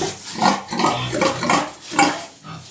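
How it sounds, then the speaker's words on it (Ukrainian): Piglets squealing in short, loud bursts, several shrill cries rising and falling close by, with a faint clatter in the background. "Свинка репетує, поросятка трішки кричали"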